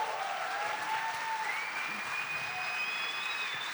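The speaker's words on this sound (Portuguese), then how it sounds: "Eu agradeço as palmas" Audience applause fills a conference hall after a talk on Brazil's international outlook, a steady dense wash of clapping from a sizable crowd, with a faint tone drifting through it.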